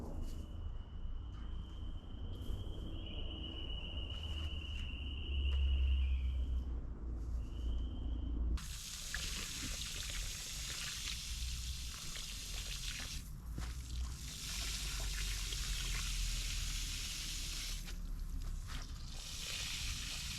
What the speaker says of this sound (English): I will go through and water this in